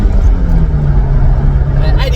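Toyota Altezza accelerating on a road to about 80 km/h, a steady loud engine drone with low rumble and road noise throughout, someone talking over it inside the cabin.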